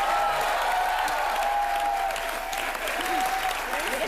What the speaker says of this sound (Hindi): और ये पागल सुनील ग्रोवर के लिए भी जोरदार तालियां हो जाए